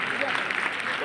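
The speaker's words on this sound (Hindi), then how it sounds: "तालियां रुकनी नहीं चाहिए" Brief burst of audience applause at a welcome ceremony, a dense patter of clapping with a speaker's voice running over it.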